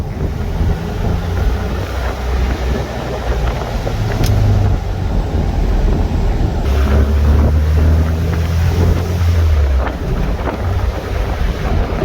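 An old Porsche on a test drive gives a steady, loud low rumble mixed with heavy wind roar across the microphone, the engine note rising and swelling midway through the run.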